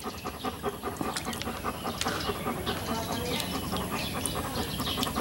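A dog pants quickly and steadily outdoors near bushes, close and moderately loud, while faint bird chirps are heard in the background.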